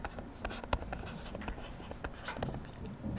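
Marker writing on a board during a physics lesson, close, rapid squeaky strokes and taps in quick irregular bursts, alone without talking.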